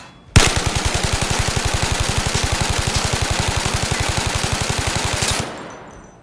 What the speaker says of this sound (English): And naturally, there's an assault rifle.